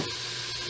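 Peppers and Spam sizzle in a Cosori cooker, a steady close hiss of frying with no voices over it.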